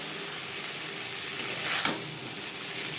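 Fried mourola fish and potatoes being mixed into an onion-tomato gravy in a pan, producing a continuous close sizzle with one brief louder stir or scrape partway through.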